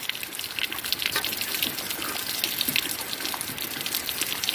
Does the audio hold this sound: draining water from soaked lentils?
yes